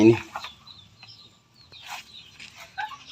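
Chickens in a backyard coop give scattered short clucks and calls, near and fairly quiet, with a person speaking briefly at the start.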